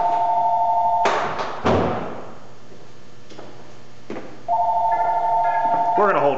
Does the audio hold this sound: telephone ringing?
yes